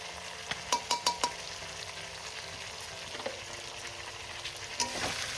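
Potatoes and spices sauté in a pan with a soft, steady sizzle. Several quick clinks of a spoon against the pan sound near the start, then a few more scattered taps later. No voices are heard.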